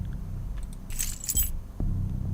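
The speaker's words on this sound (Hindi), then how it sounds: "मिल गई चाबी।" A ring of keys jangles as it is picked up in a crime detective video game, a brief bright metallic rattle lasting about half a second over a low steady background hum.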